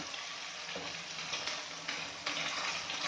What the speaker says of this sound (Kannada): ಈಗ ಇದನ್ನು 1 ನಿಮಿಷ ನಾವು ಮುಚ್ಚಿಟ್ಟು ಫ್ರೈ ಮಾಡೋಣ.